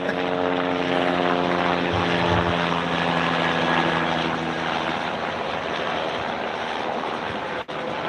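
A police aircraft in a video game passes overhead, a loud, steady droning engine with a buzzing, propeller-like hum that stays strong for the whole pass before easing slightly.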